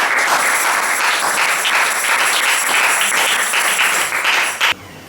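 A church congregation applauds and cheers for Jesus, with dense and steady clapping and crowd noise throughout that cuts off abruptly near the end.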